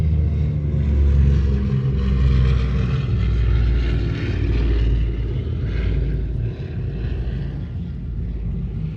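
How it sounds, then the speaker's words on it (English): Piston engines of an A-26 warbird roar past during a close airshow pass at Thunder Over Louisiana, a loud, sustained low drone that swells and then eases slightly as the aircraft moves away. "Listen to that iconic engines on the A26."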